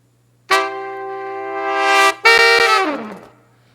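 Trombone swells processed through the Vocaline alignment plugin: a sustained brassy tone swelling over about two seconds, then a second phrase with short accents and a falling slide, played alone.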